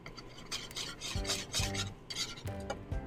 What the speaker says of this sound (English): we're just going to let it melt in with our glaze, and just slowly whisk it in